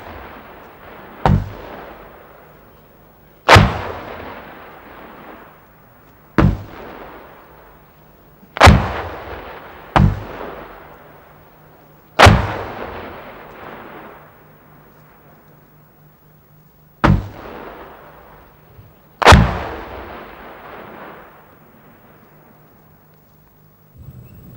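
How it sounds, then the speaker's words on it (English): Bofors gun rounds fire and burst above an enemy position, about eight sharp, loud booms at uneven intervals, each with a long rumbling decay, over a low steady hum. "The replay showed the rounds bursting above the enemy position."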